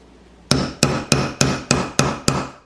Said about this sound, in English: You can actually hear it, the last strikes are getting louder, and that's letting you know that it's set.